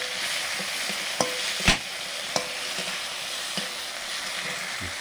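Bamboo twig knots cracking and popping in a kitchen cooking fire: several sharp, loud snaps spaced irregularly over a steady crackling hiss, with no talking.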